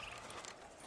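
Soft, steady clip-clop of horse hooves in a quiet Red Dead Redemption game scene, with a brief louder sound at the very end.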